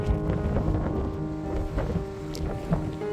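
Strong gusts of wind sweep across the open rolling hills of Batanes, buffeting the microphone with a heavy, continuous rumble and roar that rises and falls without pause.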